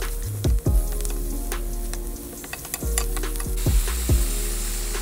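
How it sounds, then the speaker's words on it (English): Bacon and onions fry together in a pan with a steady close sizzle, broken by several sharp stirring scrapes and squishes as the food is moved around. "I add my onions while the bacon is cooking"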